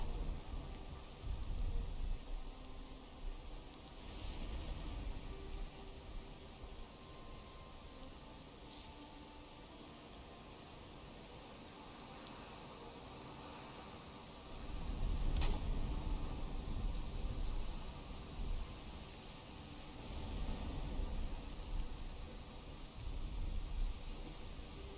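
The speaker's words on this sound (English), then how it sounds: "oh, thank heavens the rain is stopping" Rain falling in the video game Valheim, a steady hiss of rain with low rumbles swelling and fading several times, as though distant thunder, with no talk.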